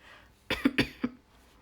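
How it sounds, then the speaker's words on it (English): Three or four harsh coughs burst out in quick succession, close and fairly loud, with near silence before and after. "Sorry for the coughing, guys."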